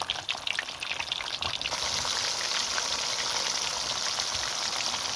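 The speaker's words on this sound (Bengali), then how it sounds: "তেলটা গরম হয়ে আসার পরে আমি মাছগুলা তেলের মধ্যে ছেড়ে দিব" Snakehead (shol) fish hits hot oil in a pan and sets off a steady, dense crackling sizzle. The sound swells sharply about a third of the way in and then holds loud and even.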